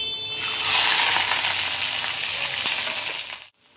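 Garlic dropped into hot mustard oil with black cumin and dried chillies for a cabbage bharta, bursting into a loud, steady, close hiss of frying that holds for about three seconds and then cuts off abruptly.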